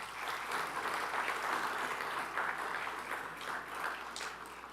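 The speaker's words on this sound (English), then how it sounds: "Round of applause, please." Audience applause fills a college assembly hall at a State of the Schools event, a steady dense clapping from a large crowd that holds even and loud throughout without any voices.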